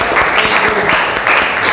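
Steady audience applause after a classroom group presentation in a teacher training session, dense overlapping claps at an even level throughout.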